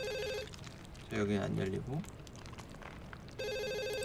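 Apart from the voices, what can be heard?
telephone ringing in Ju-on The Grudge video game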